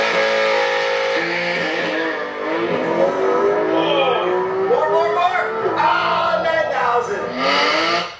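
A Porsche GT3 RS engine, which revs to 9,000 rpm, revving hard: loud, close, rising and falling engine howls that climb repeatedly in pitch, with a brief drop-off at the end.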